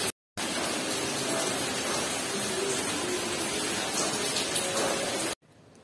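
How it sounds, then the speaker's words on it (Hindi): Steady rain falls with a continuous broadband rush that may include strong wind, loud and even throughout, starting after a short silence and cutting off near the end. "एकदम वो मौसम बारिश की वजह से ना एकदम ही हवाएं तेज चलने लगी हैं"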